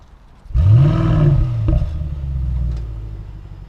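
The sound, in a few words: Mercedes-Benz GLS 63 AMG engine starting with higher rev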